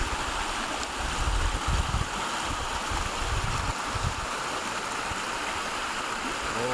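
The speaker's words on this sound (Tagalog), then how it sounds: "Ayan, tignan nyo ang lakas ng tubig." Strong water rushes in a broad, continuous roar, with a louder churning surge in the middle of the clip and no clear voices.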